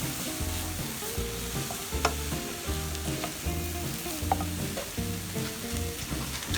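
Vegetables are stirred and tossed in a hot frying pan for a stuffed turkey breast dinner, with steady sizzling and a rhythmic scraping of the utensil against the pan throughout, close and continuous.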